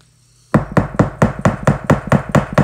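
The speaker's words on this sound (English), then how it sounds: "A few firm whacks on the table." A metal hair stacker for fly tying rapped firmly on a tabletop about a dozen times in a quick, steady rhythm, each a sharp close knock after a moment of silence.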